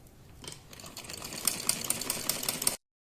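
A sewing machine runs steady stitches along the cut edge of old saree fabric being remade into a kurti, its rapid mechanical clatter building in loudness before stopping abruptly.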